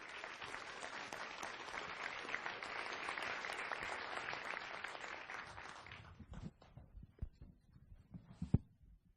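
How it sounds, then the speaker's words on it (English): An audience at the NASA MAVEN launch event applauds its panel, steady dense clapping for about six seconds that thins into a few scattered, trailing claps and one louder final clap. "Let's give a round of applause to our panel."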